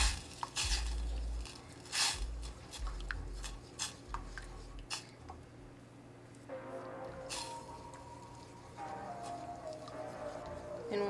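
Vegan peanut sauce being stirred in a pot, with repeated scraping and clinking of a utensil against the pot in irregular strokes, then a softer simmering hiss near the end, close and fairly quiet.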